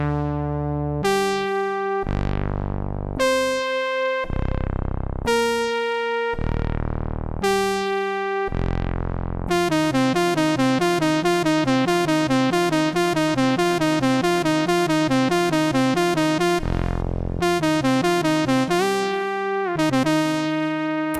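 Roland Fantom synthesizer playing a romantic 80s scene: a few sustained, separated chords ring out and decay, then a busy rhythmic arpeggiated pattern runs continuously, loud and alone.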